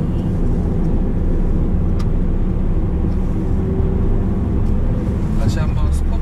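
A Mercedes-Benz E43 AMG drives along a winding road, heard from inside the cabin as a steady, moderately loud engine and road rumble, with a person talking over it.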